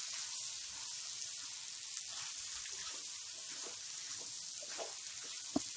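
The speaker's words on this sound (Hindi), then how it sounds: "अच्छे से ग्वार फली को चला लेंगे" Cluster beans (gawar phali) stirred in a pan with salt and tomato give off a steady, moderate sizzle, with soft scraping clicks from the stirring and one sharp tap near the end.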